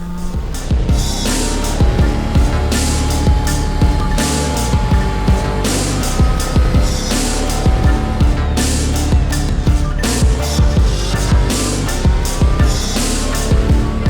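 A car runs flat out on a race track, engine loud and close with rising and falling revs and repeated tyre squeal through corners, heard alone without talk.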